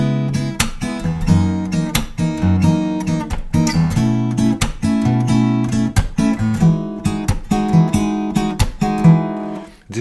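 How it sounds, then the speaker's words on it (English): An acoustic guitar plays the fingerstyle plucking pattern of a song, a steady rhythmic groove of bass notes and plucked chord tones with crisp percussive attacks throughout. "The fingerstyle plucking pattern sounds like this."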